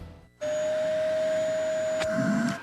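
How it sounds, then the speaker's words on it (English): A vacuum cleaner motor switches on abruptly and then runs as a steady, fairly quiet whine and hum. The sound barely changes in pitch or loudness throughout. "When your vacuum cleaner loses suction, your first instinct is to shake or hit it to unblock the clog."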